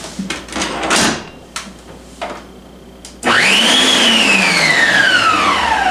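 After a few knocks and clatters of handling, an electric mixer kicks in on donut dough with a loud whirring motor whose pitch swoops up and then slowly falls, running steadily to the end.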